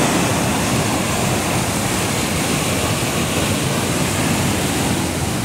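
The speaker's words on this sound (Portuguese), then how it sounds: "Tá aí toda essa água indo para o Riacho Seco, Rio Salgado e açude do Castanhão." Water released through opened floodgates of the São Francisco transfer canal at kilometre 53 in Ceará rushes steadily and loudly, a dense continuous roar with no pauses and no voices.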